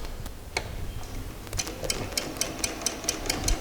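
Sewing machine top stitching the folded mouth of a side pocket on a pair of shorts, a fairly quiet run of rapid, evenly spaced mechanical ticks that settles into a steady rhythm.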